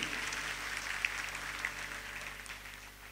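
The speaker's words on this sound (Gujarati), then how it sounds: "રાજુરામ બાપુને અને મસ્તરામ બાપુને એકવાર જોરદાર તાળીઓના ગગડાટથી વધાવી લઈ" An audience at a devotional bhajan gathering claps in a dense, sustained round of applause that gradually thins toward the end.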